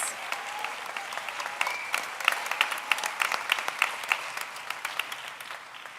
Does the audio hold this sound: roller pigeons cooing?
no